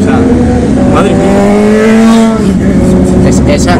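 A Ferrari's engine in a racing video game, a loud, close, high revving whine that climbs and shifts in pitch through gear changes, with a voice talking over it.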